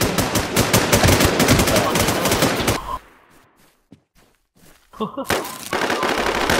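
Fast, loud gunfire from a shooter game pours in close for nearly three seconds, breaks into a quieter pause with a few scattered shots, then resumes as a heavy burst, with voices mixed in.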